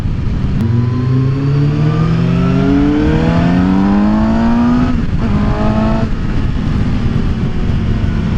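A 2018 Suzuki GSX-S750 motorcycle engine revs hard through rising gears on a demo ride, its pitch climbing steadily, dropping briefly at a shift and climbing again, loud and close with constant wind roar.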